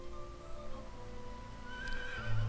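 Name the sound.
horses neighing in a video game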